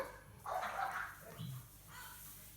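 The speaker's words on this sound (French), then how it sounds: "Et mon chien qui a vu le facteur." A dog that has spotted the mail carrier barks in a couple of short, fairly quiet bursts in the background, with no speech heard.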